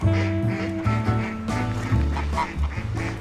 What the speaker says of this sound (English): We're being chased by ducks now.